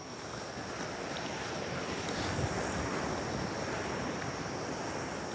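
Ocean waves crash along a beach during Typhoon Maysak in a continuous loud roar of surf, mixed with heavy wind buffeting the microphone, with no voices.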